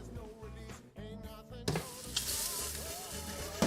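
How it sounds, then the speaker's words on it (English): Spam frying in a pan at a home cooking class, a steady crackling sizzle running the whole time under faint background music. "Spam, I hear spam sizzling."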